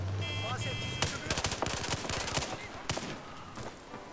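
Rapid automatic gunfire in Battlefield 4, a dense run of sharp shots with heavy kick firing in quick bursts over a game soundscape, with a steady electronic tone at the start and a few scattered louder cracks.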